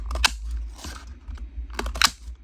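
A few crisp mechanical clicks of a paper hole punch close by, spaced irregularly over a low background hum.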